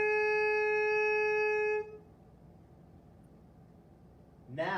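A single saxophone note held steady and bright for about two seconds, then cut off into quiet room tone before a voice starts speaking near the end.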